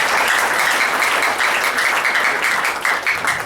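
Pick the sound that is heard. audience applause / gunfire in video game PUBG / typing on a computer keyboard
audience applause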